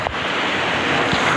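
Strong sea waves at Bolinao, a brief burst of loud, close surf wash mixed with wind buffeting the microphone.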